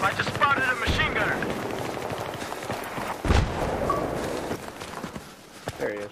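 Machine gun fire in the video game Battlefield 3 during a Rush match on the Bazaar map, rapid bursts and shots mixed with footsteps while players talk over the fighting.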